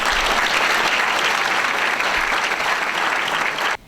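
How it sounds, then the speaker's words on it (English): Applause at a high school champions banquet, a dense crowd clapping steadily and loudly for about four seconds before stopping abruptly. "Round of applause, please, for Alyssa Carazawa."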